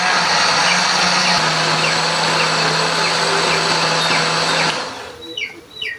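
A blender's loud, steady motor whine with coarse grinding of chili spice paste with a little water runs for about five seconds, then cuts off abruptly, leaving quieter background noise.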